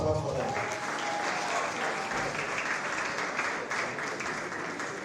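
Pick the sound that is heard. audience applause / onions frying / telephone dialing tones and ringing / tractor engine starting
audience applause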